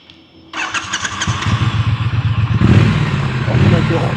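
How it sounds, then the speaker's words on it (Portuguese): A Triumph motorcycle engine cranks and catches after a brief pause, then settles into a loud, close, throbbing idle with a rhythmic pulse. "Vamos ouvir um pouquinho do motor."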